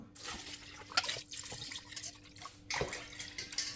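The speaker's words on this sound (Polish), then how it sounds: "Zalewamy to nasze mięso zimną wodą." Cold water pours from a tap into a large pot of chicken pieces, wings, neck and beef for broth, splashing and gurgling in uneven bursts with brief pauses, close and moderately quiet.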